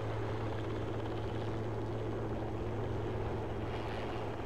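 A helicopter in the Project Reality video game drones steadily with a constant rotor thrum and engine whine, fairly quiet and unbroken throughout.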